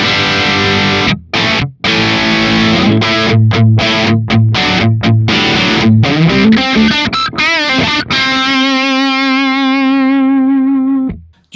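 Stratocaster electric guitar played through a Marshall amp profile with no pedal, loud chords and single-note riffs with a crunchy tone, ending on a sustained ringing chord that is cut off, with no talking.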